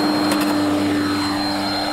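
A radio-controlled model plane's motor runs at full throttle, giving a steady, loud, even whine and rush of air that holds for the whole moment with no break.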